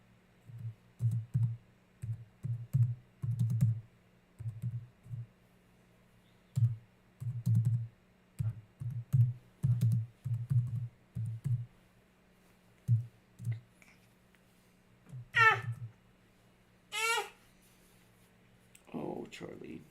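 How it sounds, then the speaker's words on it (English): One-handed typing on a computer keyboard during a Star Wars Galaxy of Heroes Grand Arena livestream: irregular clusters of soft, low key taps near the mic across the whole stretch, with brief speech late on. "One-handed typing here."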